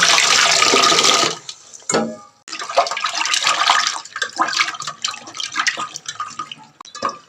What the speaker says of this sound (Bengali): অনেকবার ধুয়ে নিয়েছি এবার আরও দু একবার ধুয়ে নেবো